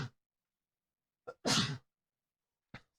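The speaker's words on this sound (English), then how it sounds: "I have to sneeze." A single loud, close sneeze bursts out after a couple of short sharp inhales, then a faint breath follows in otherwise quiet surroundings.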